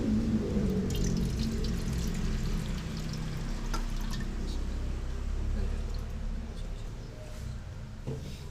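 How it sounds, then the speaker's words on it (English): Water pouring into a cooking pot on a stove, a steady splashing stream that gradually fades as it fills, with faint background noise. "First, add water."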